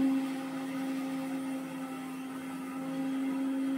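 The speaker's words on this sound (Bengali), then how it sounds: "মিক্সিতে সরষে বাটছে, আর কত আওয়াজ হচ্ছে" Electric mixer grinder grinding mustard seeds in a home kitchen, a steady loud motor whine with a strong constant hum that runs unbroken and alone for several seconds.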